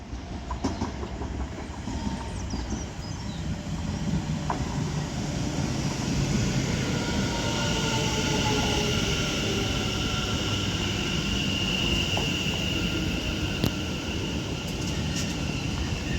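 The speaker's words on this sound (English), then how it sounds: "Arriving in is going to be another doubled up West Midlands Railway 730." A doubled-up West Midlands Railway class 730 pair, units 730-044 and 730-002, rolls into Four Oaks station with a steady, building rumble and rail noise. Faint clicks sit over the sound for about sixteen seconds.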